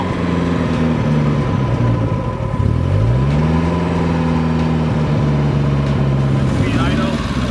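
An NSU vehicle engine runs and revs up and down with a steady mid-pitched drone, its pitch sliding between idle and higher revs, loud and close throughout, with a voice talking faintly over it.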